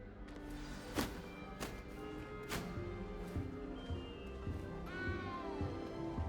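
A cat meows in Hogwarts Legacy, with a few short, close mews over soft game ambience and occasional taps and thuds.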